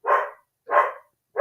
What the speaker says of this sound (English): Oh my goodness, my dogs.